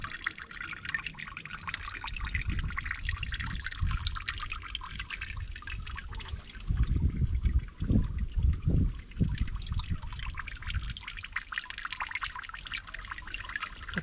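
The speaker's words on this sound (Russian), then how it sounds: "вот вода с гор течет" Cold mountain water runs from a pipe outlet near a beach path in Anapa, a steady close trickle and splash with a brief louder gush midway.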